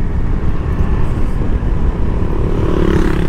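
FKM Ranger 150 motorcycle with a GY6 engine cruising around 50 to 60, a steady low engine drone mixed with heavy wind rush, loud and continuous throughout.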